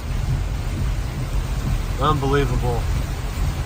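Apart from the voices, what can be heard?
storm with thunder, rain and wind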